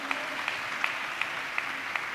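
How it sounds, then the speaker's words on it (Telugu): A church congregation claps together in praise of God during a sermon, six evenly spaced rhythmic claps over a soft background hum. "అలా ఇచ్చినట్లు చప్పట్లు కొడుతూ స్తోత్రాలు చెప్దాం."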